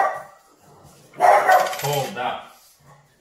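A dog barks in a kitchen while chasing a fly, a short burst heard close by and mixed with someone talking over it.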